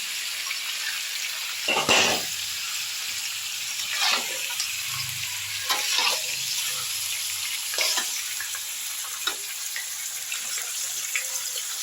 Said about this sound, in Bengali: দেখো আমি চিকেনগুলোকে এরকম উল্টে পাল্টে একটু ফ্রাই করে নিচ্ছি।